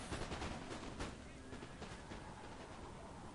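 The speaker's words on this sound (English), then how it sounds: "I ordered my Prussian fusiliers to shoot them." Musket volleys from Prussian fusiliers in the Napoleon: Total War video game, a dense crackling burst of overlapping shots that rolls on steadily throughout.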